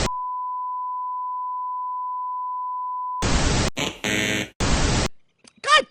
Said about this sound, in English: Beep, beep, beep, beep, beep, beep. We have issues.